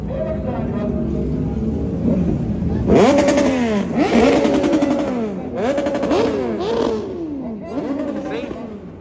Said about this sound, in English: they would go right by the cops and rev their engines